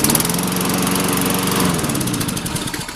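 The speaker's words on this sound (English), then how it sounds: "Now the engine's just been run, so it should start right up on the regular gas." A gasoline lawnmower engine runs steadily on regular gas, a loud, close, buzzing drone with a fast, even pulse that holds level throughout without any voice.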